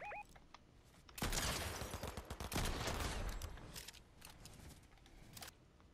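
Bursts of gunfire in a Fortnite match, a few sharp shots followed by a dense rattling volley that runs for several seconds before easing off, fairly close and loud.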